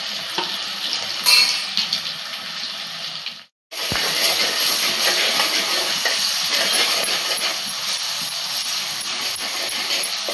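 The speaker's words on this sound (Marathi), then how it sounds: "आता कांदा टाकते. कांदा फ्राय करून घेऊया." Onion frying in hot oil in a pot with ginger-garlic paste for a spicy soybean curry, a loud, steady close-up sizzle that cuts out briefly partway through and then resumes just as strongly.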